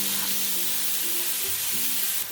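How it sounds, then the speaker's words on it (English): Beef frying over high heat in a hot pan with oil for bulgogi, a dense, loud continuous sizzle with faint scraping as it is stirred quickly, close up. "Cook the beef over high heat, stirring quickly to evaporate excess moisture."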